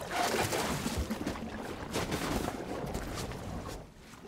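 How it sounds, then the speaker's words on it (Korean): A yacht sinks into the open sea in a film scene, giving a steady, full-bodied rush of bubbling, gurgling water that stays loud throughout and eases off slightly toward the end, with no voices. "또다시 꿀렁대는 소리를 내며 바닷속으로 잠겨가는 요트."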